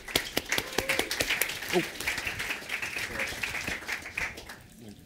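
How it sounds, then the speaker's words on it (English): A conference audience applauds, a dense patter of many hands clapping near and steady for several seconds, with a brief voice heard over it. "Round of applause, please"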